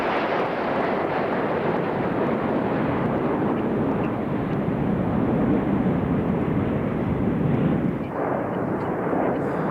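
Red Arrows jets fly in formation over trees at the Festival of Speed, a broad, continuous roar of jet noise that swells slightly and holds steady throughout, heard from some distance.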